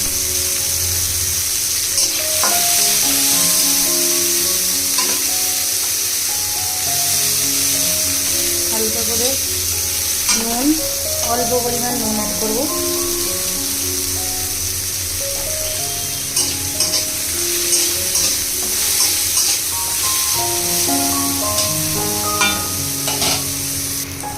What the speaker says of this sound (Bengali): এবার আমি যে করলাগুলো আছে করলাগুলোকে ভালো করে ভেজে নেব